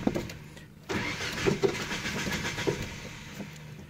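A Ford Ranger engine with a rough, unstable idle cranks and tries to start, giving a steady mechanical whirring with a few faint knocks, fairly quiet and with no one speaking.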